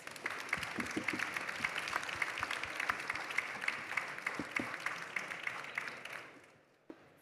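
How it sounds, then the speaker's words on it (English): An audience applauds steadily for several seconds after a panel discussion, a dense patter of clapping that fades out near the end. "A big round of applause to our speakers."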